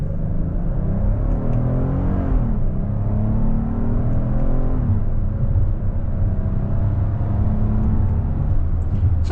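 A 2026 Hyundai Palisade SEL Convenience AWD pulls away after a downshift, its engine rising in a steady low drone with climbing revs that dip and rise again, loud and continuous inside the cabin.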